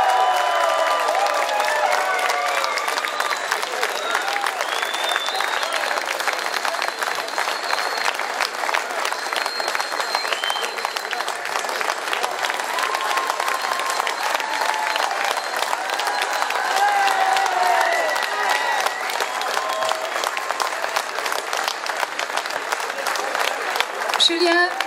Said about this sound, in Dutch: Hij verdient uw grootste respect en uw luidste applaus.